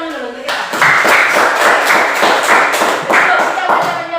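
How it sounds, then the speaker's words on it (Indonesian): A classroom group claps hands together in a fast, rhythmic pattern of sharp beats, loud and close, with a patterned pause partway through. "Kita tepuk tangan dulu kita."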